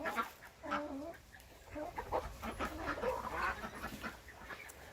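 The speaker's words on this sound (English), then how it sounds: "Agnes Nutter, there's a turkey in my house" A turkey indoors in a house gives a few soft gobbling, clucking calls over low, faint room noise, with no talking.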